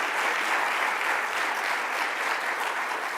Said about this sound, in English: let's give another round of applause to our district attorney